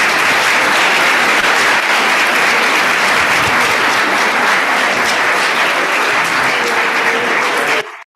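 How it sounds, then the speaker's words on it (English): Audience applause following a senior graduation speech, a dense, steady roar of many hands clapping at a loud, even level for nearly eight seconds before cutting off abruptly. "Let's have another round of applause"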